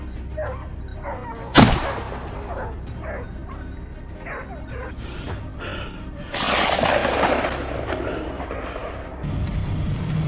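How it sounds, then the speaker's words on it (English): One loud, sharp gunshot rings out early during a wild boar hunt, and dogs bark, yip and whimper before and after it, with a noisy rush of movement in the second half. "as the wild boar entered his crosshairs, a decisive gunshot rang out"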